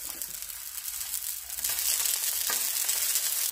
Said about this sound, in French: On étale l'huile et on vient déposer nos courgettes directement sur la plancha.